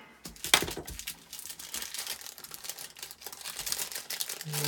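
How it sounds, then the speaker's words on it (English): Packaging around four rubber straps for a paint shaker is cut open close by, giving a run of crinkly plastic rustles, snips and small cracks at a low, uneven level with no talking. "So I have 4 rubber straps. Just cut them open."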